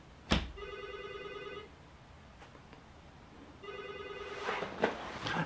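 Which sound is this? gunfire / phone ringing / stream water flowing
phone ringing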